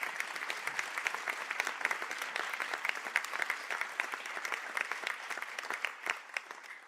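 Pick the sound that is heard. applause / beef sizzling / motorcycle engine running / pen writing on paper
applause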